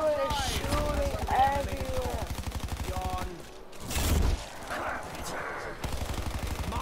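Rapid automatic gunfire in a zombie shooter video game, fast evenly spaced shots rattling almost continuously with a brief pause and a heavier burst, alongside game sound effects.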